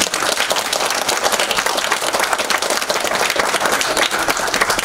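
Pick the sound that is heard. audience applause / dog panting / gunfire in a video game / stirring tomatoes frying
audience applause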